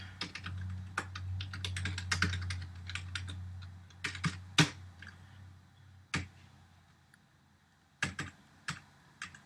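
Typing on a computer keyboard while writing Java code, with bursts of close key clicks separated by pauses and a few isolated taps, fairly quiet.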